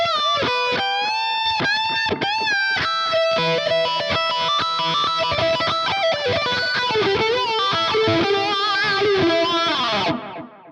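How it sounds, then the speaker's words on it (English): An electric guitar plays a lead line through a sweeping Petrucci wah, tone opening and closing as notes bend and sustain, loud and alone. "This is the Petrucci Wah."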